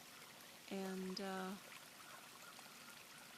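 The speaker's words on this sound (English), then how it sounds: "And if you're hearing that noise in the background, I'm sitting in front of my garden pond. If you can see it over there with the water flowing." Water flows continuously in a garden pond as a soft, steady background rush, while a person briefly speaks over it.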